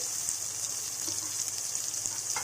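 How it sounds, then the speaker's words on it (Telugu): Tomatoes cooking in oil in a covered pan for an arbi masala curry, a steady bright sizzle and crackle with a few faint pops and taps, close and continuous, with no voices. "ఇలా మూత పెట్టి ఆయిల్లో టమాటోస్ని మగ్గనివ్వాలి."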